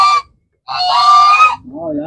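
A goose in the Dong Thap flood-season countryside gives loud, close, nasal honks, one short call and then a longer drawn-out one, with a faint voice starting at the end.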